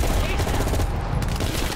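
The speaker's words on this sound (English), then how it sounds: "Toward the sound of gunfire." Rapid bursts of gunfire crackle densely and loudly, a chaotic firefight with overlapping shots including M16 fire, in the video game Call of Duty: Black Ops Cold War.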